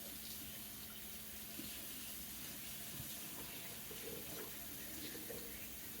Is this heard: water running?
yes